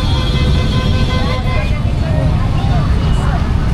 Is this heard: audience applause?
no